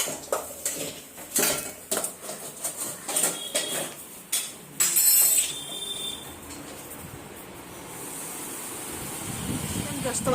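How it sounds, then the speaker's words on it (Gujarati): Tempering khichdi in a home kitchen pot, with metal clinks and scrapes of a utensil against the pan, then a steady sizzling hiss as the spices hit hot oil, heard close and moderately loud. "મમ્મી ખીચડી વઘારે છે."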